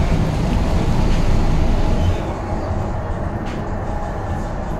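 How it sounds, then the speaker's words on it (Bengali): A Kolkata Metro train rolling from Dum Dum toward Dakshineswar gives a loud, steady broadband rumble of wheels and motors, easing slightly partway through, with no talk. "আমরা তো মেট্রোতে উঠে পড়েছি।"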